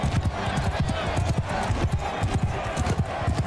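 Horse hooves clip-clop in a quick, regular rhythm, loud and near, with faint voices in the background.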